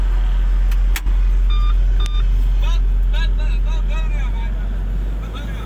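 A vehicle maneuvers at night near a sugarcane harvester, with a loud, steady engine drone close by, a couple of brief beeps, and someone talking over it.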